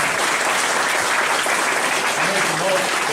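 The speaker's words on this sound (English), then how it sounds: "he deserves a great round of applause" An audience at an evening introduction of a state representative in Windsor gives a loud, dense round of applause that carries on steadily throughout, with voices mixed into the clapping.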